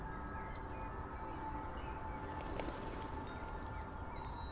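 Birds chirp and tweet outdoors in the video game Stray, a steady scatter of high calls over a constant low ambient bed throughout.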